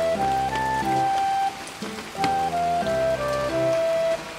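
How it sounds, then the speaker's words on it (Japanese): Rain falls at a winter campsite at PICA Yatsugatake Akeno, a steady close patter across the whole stretch, with a soft melodic tune playing over it. "雨の音で 目が覚めました。"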